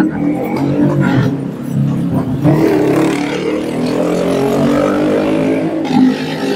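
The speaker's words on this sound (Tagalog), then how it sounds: "Hindi nyo rin makikita yung pinakaingay na motor." A loud motorcycle engine on a street in Intramuros, Manila, with a steady rumbling drone that swells and revs slightly, nearby and continuous, with no talking.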